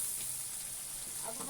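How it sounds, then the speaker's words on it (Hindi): Ground browned onion paste for kofta gravy fries in a pan with a soft, steady sizzle, faint and continuous, and a voice briefly murmurs near the end. "इसके साथ हम थोड़ा सा भूनेंगे"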